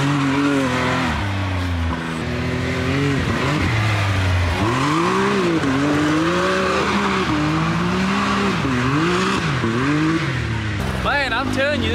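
A 2019 Can-Am Maverick X3 Turbo driving full throttle through a ditch, its engine revving loud and close with rising and falling pitch through gear changes, under occasional voices.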